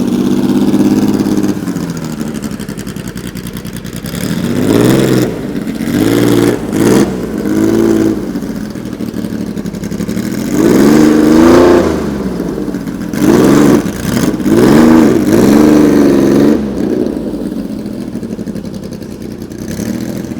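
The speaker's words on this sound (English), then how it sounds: "V6 Dino engine" A rally car's V6 Dino engine at a rally event in Italy revs up and down repeatedly in loud rising and falling bursts, with short idling pauses between the revs and a warbling tone.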